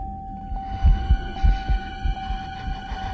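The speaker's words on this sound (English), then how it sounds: "the heartbeat and dramatic music just cut off" A game heartbeat in the horror title Forsake: Urban Horror thumps in loud, deep pulses, roughly paired beats repeating over a steady low hum and a sustained tone.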